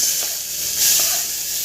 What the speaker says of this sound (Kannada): ಜೀರಿಗೆ ಸಿಡಿದ್ಮೇಲೆ ಈರುಳ್ಳಿ ಹಾಕೊಳ್ಳೋದು